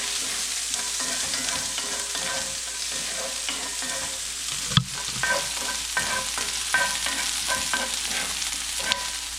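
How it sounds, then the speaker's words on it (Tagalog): Ingredients sauté in a pan for paella, giving a steady, moderate sizzle with occasional stirring scrapes and clinks. "Gisa-gisa lang natin"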